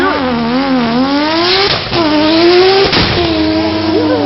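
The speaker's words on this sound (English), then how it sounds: "that's the RX-7. That thing sounds nasty. I want to hear this guy rip it again." A Mazda RX-7 engine revs hard with rising and falling pitch, loud and close, with brief gear-change dips between pulls.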